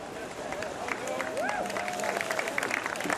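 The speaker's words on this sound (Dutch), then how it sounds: "Terecht applaus." Crowd applause from spectators at a skûtsje sailing race in Earnewâld, a steady wash of clapping and hubbub held at moderate distance, with a whistle-like tone rising and falling midway and voices talking under it.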